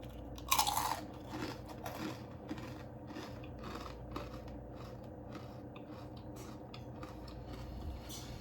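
Crunchy Samyang Buldak stew-type noodles with egg and enoki mushrooms are chewed close to the microphone, with one sharp crunching bite near the start followed by softer, steady, faint chewing.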